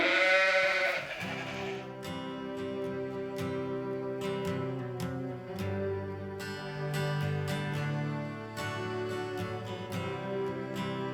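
A flock of ewes in the Jura mountains bleating with big guard dogs nearby: loud, close, overlapping cries that run continuously, one wavering call at the start and sustained tones after it, with no talking.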